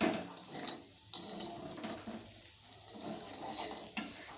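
Close clinks and scrapes of a utensil stirring in a pan, with a soft sizzle underneath and occasional sharper metallic knocks.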